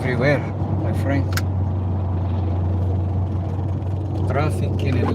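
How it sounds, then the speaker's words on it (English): Road traffic in Atlanta hums steadily with a low engine drone from passing cars, while people talk briefly at the start and near the end. "Traffic is everywhere, my friend."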